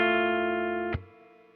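Electric guitar on its middle pickup played through distortion and reverb effects, a sustained chord ringing loud and steady before a sharp hit cuts it off into a short fading tail.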